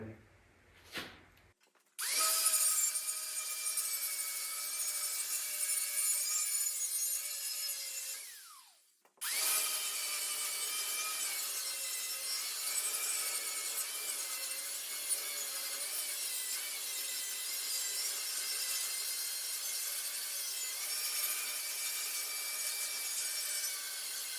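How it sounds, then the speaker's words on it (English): Grinder working on a cut piece of 1/4 inch steel, a loud, continuous high-pitched grind that stops briefly, then resumes steadily to the end. "I'm gonna grind this off and pop it out"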